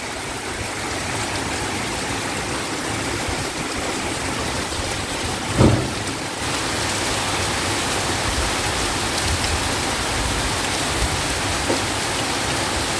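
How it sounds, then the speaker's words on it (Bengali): Steady rain falls on tree leaves outdoors on a cool, breezy evening, a dense, even hiss with no talking and one brief soft bump midway. "গাছের পাতার উপর বৃষ্টির জল পড়লে কি ভালো লাগে না দেখতে।"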